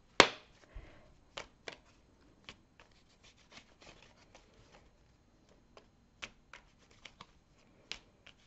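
Tarot cards are shuffled and laid out on a surface: a sharp snap, then sparse, quiet slaps and soft clicks of cards set down one by one, with no voices.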